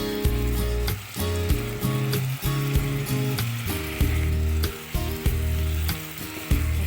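Holy basil stir-fried in a pan for Thai kaphrao, a steady loud sizzle broken by repeated scraping and clacking strokes of a spatula against the pan, close up with no talking.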